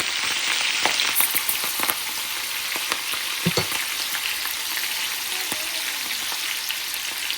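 Chili frying in a pan gives a steady, close, crackling sizzle with scattered sharp pops and stirring scrapes, continuous throughout with no talking.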